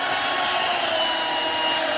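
A Shark Pet cordless stick vacuum with an XL dust cup runs with a loud, steady motor whir and airflow hiss that holds unchanged for two seconds, with no talking.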